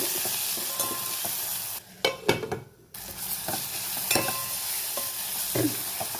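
A spoon stirs a tempering of mustard seeds, cumin, green chillies, curry leaves, tomato, turmeric, salt and chilli powder in a pan, with steady sizzling broken by a brief quieter pause and scraping strokes.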